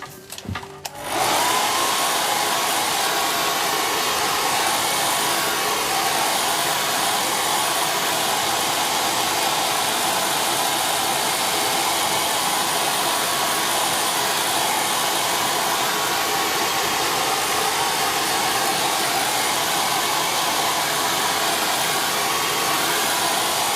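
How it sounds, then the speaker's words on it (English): Hairdryer blasting air to dry paint on a purple door, switching on after a brief moment and then roaring at a steady, loud, unbroken pitch close by, alone with no talk. "I'm just going to blast it with the hairdryer again"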